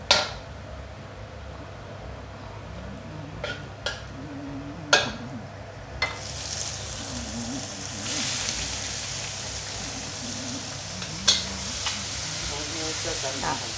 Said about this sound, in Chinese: 这样这个爆香了就下这个香菇跟这个虾米去炒鲜最后还下这个肉炒了才下这个米去炒